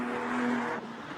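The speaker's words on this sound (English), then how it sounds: "Makes a good noise, this car, as he rattles over the curb." Engine of a GT4 race car at Spa, rattling over a curb after braking into Les Combes, roars loudly and steadily for a moment, then eases as it passes, heard alone without talk.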